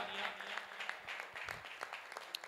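An audience at a Digambar Jain community abhishek ceremony in Rohini, Delhi claps in a sustained burst of many hands. The clapping is dense and fairly close, with a faint voice murmuring underneath.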